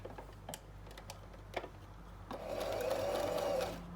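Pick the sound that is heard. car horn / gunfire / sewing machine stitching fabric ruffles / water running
sewing machine stitching fabric ruffles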